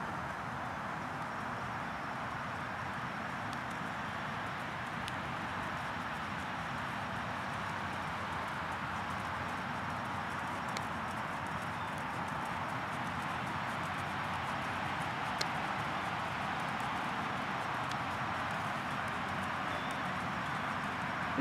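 A horse's hooves beat a steady, faint rhythmic jog in a western dressage arena, soft repeated thuds over a constant background hiss.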